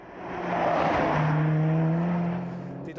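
A 300-horsepower sports car engine accelerates hard, its rising whine swelling loudly then fading as it pulls away.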